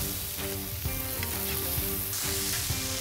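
Meat sears with butter on a hibachi griddle, giving a steady, close sizzle with faint scraping and stirring over it, and no talk.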